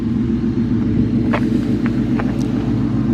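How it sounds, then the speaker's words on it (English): Steady, deep low rumble of a Ford Mustang engine idling nearby, loud and continuous with no change in rhythm, a few faint higher chirps faintly above it, no voices. "My fucking Mustang rumbling"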